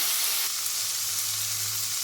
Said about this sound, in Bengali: কড়াইয়ে দিয়ে নিয়েছি সাদা তেল, তারপরে আলু আর গাজরটাকে আগে ভেজে নেব।